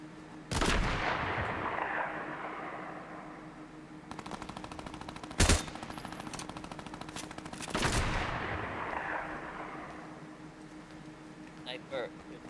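Sniper gunfire in Fortnite: three loud, sharp cracks spread over several seconds, each trailing off in a long echoing tail over a steady background hum of rapid distant fire.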